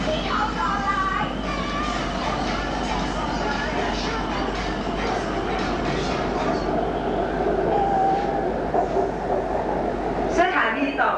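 Inside a BTS SkyTrain in Bangkok, Thailand, a steady rolling rumble and hum of the moving car fill the background, with people talking and a faint tonal whine over it throughout.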